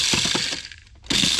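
A small grinder whirs loudly as it mills a harvested corn sample into fine meal, with a brief dip in the middle before the grinding noise surges back.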